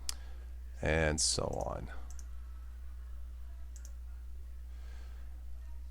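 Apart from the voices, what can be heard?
mouse clicking through wallpapers on a computer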